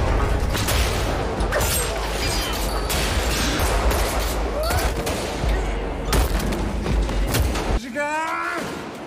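Dense gunfire fills an intense film shootout, rapid bursts and single shots crackling loudly and almost continuously, close and overlapping, ending with a sharp shot and a ringing whine.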